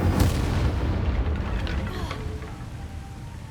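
Incendio fire spell cast in the video game Hogwarts Legacy, a loud booming burst at the start that rumbles and fades away over a few seconds.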